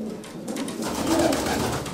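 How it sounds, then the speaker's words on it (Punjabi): A pigeon of a prized breed coos softly, a single low throaty call heard alone over quiet background. "ਜਿਹੜਾ ਕਬੂਤਰ ਬਹੁਤ ਹੀ ਵਧੀਆ ਨਸਲ 'ਚੋਂ"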